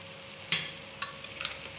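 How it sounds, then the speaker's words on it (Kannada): A spoon stirs ghee vegetable pulao in a pan, giving about three distinct scraping strokes with soft sizzling between them, close and fairly clear, with no one talking. "ಈ ಥರ ಇಲ್ಲೆಲ್ಲ ಫುಲ್ ಮಿಕ್ಸ್ ಮಾಡಬೇಕು ಕ್ಲೀನಾಗಿ."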